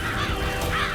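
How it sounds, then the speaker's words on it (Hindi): A flock of birds calling: dense, overlapping crow-like caws fill about a second at moderate volume, with no talking. "पंछियों की आवाज आ रही है। लगता पंछियों का पूरा झुंड है।"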